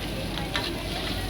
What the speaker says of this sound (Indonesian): Nih kayaknya bapaknya lagi masak nasi goreng Pattaya pesanan istri ini. Ikannya juga masih digoreng